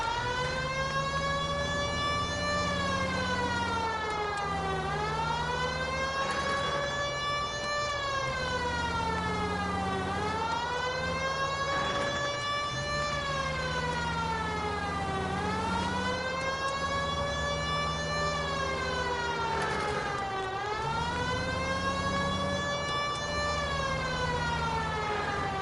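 Police car siren in the video game L.A. Noire, a loud wailing tone that sweeps up and down in repeating cycles over a low engine rumble, with no voices.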